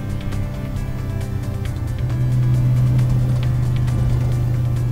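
An old race car drives through Seattle streets, its engine a loud, steady drone that climbs and grows louder partway through, with some road rumble underneath.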